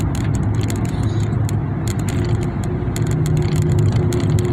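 A big truck carrying a large tree on its back rolls past, its engine a steady low rumble with road noise and some clicking, loud and close throughout without any talking.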